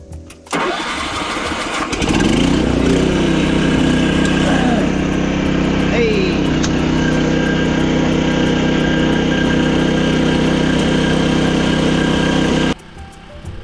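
An engine on a tracked carrier used for hauling building materials up a slope cranks and catches, then settles into a steady, loud, close idle that holds for about ten seconds before cutting off abruptly.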